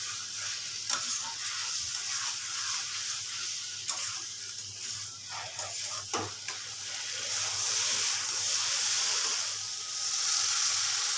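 Fried jackfruit and potato are stirred in an oiled pan, with a steady sizzle and frying hiss under intermittent scraping and clinks of the spoon, growing louder toward the end.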